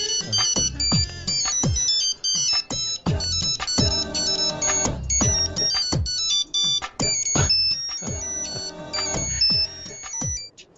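A phone ringtone plays loudly and continuously, a bright repeating electronic melody of rapid tones that carries through the whole stretch without any speech over it.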